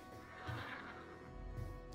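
A faint, brief horse whinny from World of Warcraft rises over a quiet background, followed by a soft low thump.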